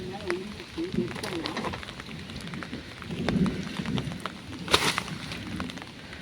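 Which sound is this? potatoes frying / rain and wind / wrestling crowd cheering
rain and wind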